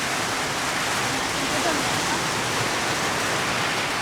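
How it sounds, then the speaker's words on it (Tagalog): Heavy rain pours down suddenly and steadily, a dense, loud hiss filling the whole scene without letup. "Biglang lumakas ang ulan"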